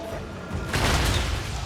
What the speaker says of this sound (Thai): ระเบิดด้วย